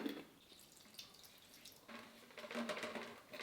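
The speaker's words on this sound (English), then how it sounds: "So now with this empty bottle, I will get rid of this water." Water pours and splashes out of an empty plastic bottle in short gurgling bursts, faint and close, with a few drips between pours.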